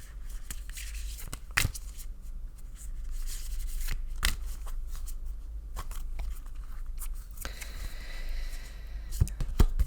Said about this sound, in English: once again I shuffle until Spirit asks me to stop